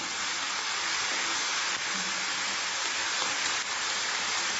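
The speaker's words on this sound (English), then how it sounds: "coarse grind it in the small mixie" A small mixie grinder whirs steadily while coarsely grinding lightly fried peanuts and sesame seeds, a loud, even, hissing motor drone that holds without pause.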